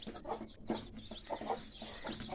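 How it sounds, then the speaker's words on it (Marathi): Hens cluck softly while newly hatched chicks peep in short, repeated calls, fairly quiet and close. "4ही कोंबड्याचे पिल्ले व्यवस्थितरित्या निघालेले आहेत."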